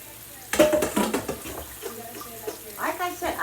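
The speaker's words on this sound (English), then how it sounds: "I'm gonna empty the fries into the strainer now" Crinkle cut fries and their soaking water pour into a strainer, a sudden splashing rush that breaks into uneven gurgles and trickles, with a brief second pour near the end.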